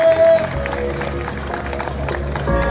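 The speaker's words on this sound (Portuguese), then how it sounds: "As palmas para o piloto Nelson!" An audience at a motorcycle show claps steadily for a rider, a dense, continuous wash of applause over a low rumble and background music.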